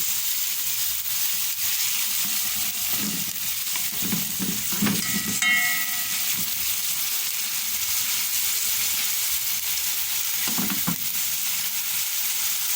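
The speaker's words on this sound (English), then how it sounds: "So I'm just going to saute this for about 10 seconds or so, and then I'm going to add my curry to it." Green seasonings frying in hot oil in a pot for a Trinidadian potato and chickpea curry, a constant bright sizzle with a few stirring knocks and scrapes, no speech.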